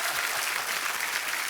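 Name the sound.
studio audience applause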